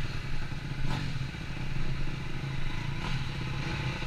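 A motorcycle ridden at the Carnegie 2019 event, on a bike new to its rider, gives a steady, fairly close engine drone with a slight rise and fall in pitch and brief louder surges.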